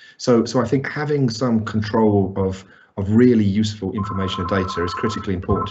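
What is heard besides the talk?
mobile phone ringing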